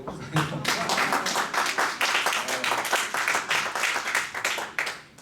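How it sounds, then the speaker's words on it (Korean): A church congregation at a Sunday morning service claps, a dense run of hand claps building into a steady ripple of applause, with some voices beneath. "박수 한번 쳐주세요."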